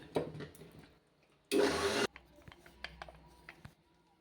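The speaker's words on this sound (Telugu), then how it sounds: "మిక్సీ అయితే పట్టేసుకోవాలి" A kitchen mixer grinder whirs in one short, loud burst of about half a second while grinding chilli powder and salt, framed by quieter clatter and handling sounds.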